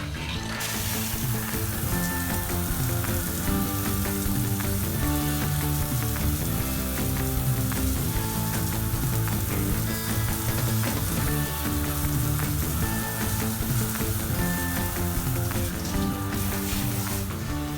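A Dr Brush drill brush with an extended reach attachment scrubs a stained surface with a little water added, a steady whirring, wet, gritty scrubbing noise running continuously from start to finish.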